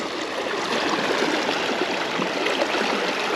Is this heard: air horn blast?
no